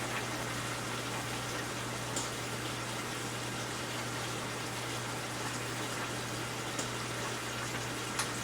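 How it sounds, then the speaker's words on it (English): A pot of homemade meat sauce for spaghetti simmers on the stove. It gives a constant soft bubbling hiss over a low steady hum, even and unbroken, with no one talking. "we're just going to let that simmer for another 5 minutes"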